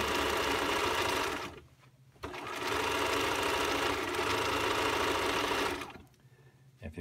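A home sewing machine stitching fabric in production-style sewing, running in a long steady burst, pausing briefly, then running again before stopping, loud and close.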